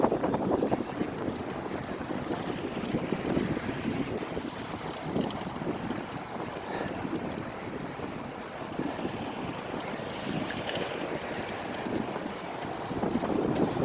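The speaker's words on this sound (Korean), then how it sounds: "이제 바람이 좀 붑니다." Strong, continuous wind roaring across the microphone while riding a bicycle along a riverside bike path between Jamsil and Bukhansan, a loud, steady buffeting rush with no speech.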